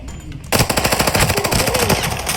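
Machine gun fire in Arena Breakout cuts in suddenly after half a second of near silence, then runs as one loud, rapid burst of evenly spaced shots with no talking.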